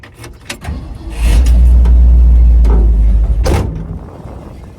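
A Ford car with newly installed brake pads rolls along with a loud low rumble that swells and then fades, with a few clunks and rattles around it.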